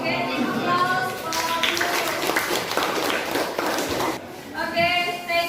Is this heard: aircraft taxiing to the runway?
no